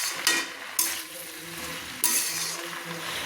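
Pui greens fry loudly in a pan with fish head for pui chyachra, a constant close sizzle broken by three sharp spatula scrapes and clinks as the mixture is stirred.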